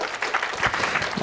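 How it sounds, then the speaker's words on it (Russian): Brief burst of audience applause at a Moscow Python Community meetup, a crowded clatter of claps from a large room, fairly loud and uneven, lasting only a moment. "Аплодисменты."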